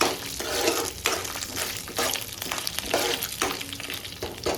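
Curry leaves, peanuts, urad dal and chana dal fry in hot oil with a continuous sizzle, while a spoon stirs and scrapes the pan in repeated strokes.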